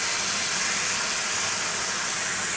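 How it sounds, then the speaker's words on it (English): Lamb chops with a poured-over sauce sizzle loudly in a hot pan, a dense, continuous hiss close up with no other sounds. "Oh, just listen to that sizzle."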